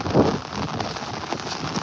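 Rain pours onto a rooftop during a storm with gusty wind, a close, steady patter with a few sharper splashes, no voices.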